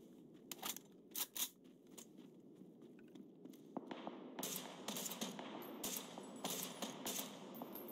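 Gunfire from a gun in the video game PUBG comes in short rapid bursts early on, then a more continuous rattling stretch of shots, fairly faint and with no talk.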